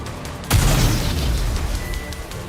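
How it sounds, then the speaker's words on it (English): Unstable homemade explosives blow up in the Nikke game with a sudden loud boom, followed by a sustained roaring rumble and crackling debris that trails off over a couple of seconds. "The explosions aren't stable. Here comes another one."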